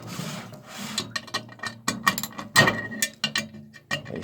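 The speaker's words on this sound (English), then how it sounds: "I'm tightening up my last screw" Screw tightened by hand on an LG washing machine's replacement rotor: close, irregular metallic rasps and scrapes in short bursts, with small clicks and knocks between turns, no talking.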